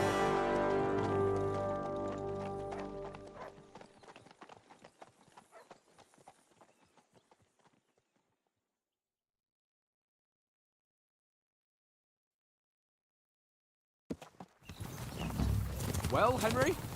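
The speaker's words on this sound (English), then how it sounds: "Riding a horse." Horse hooves clip-clop at a steady trot as a rider travels through the medieval world of Kingdom Come: Deliverance II, loud at first and then thinning to scattered taps before silence, with a loud burst of mixed game sound returning near the end.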